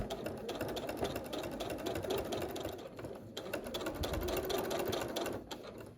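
Sewing machine quilting at real working speed, a fast steady mechanical whirring and needle clatter running continuously up close, slowing briefly midway, with no talk.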